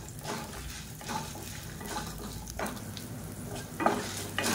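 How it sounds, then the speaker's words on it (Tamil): Garlic, dried red chillies and a small lump of tamarind fry in hot oil for a coriander and sesame thuvayal, giving a steady close sizzle broken by a few louder stirring scrapes. "இப்போ பாருங்கள் எல்லாமே நல்லா வறுபட ஆரம்பிச்சிருச்சு"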